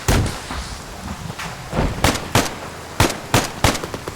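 Frag grenade and surrounding combat in a military shooter: loud, sharp blasts and cracks spaced irregularly, several close and punchy, over a rumbling battlefield background.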